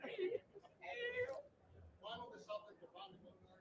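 A man imitating a cat, producing several drawn-out meows in a row with short pauses between them, close and fairly clear in a live room.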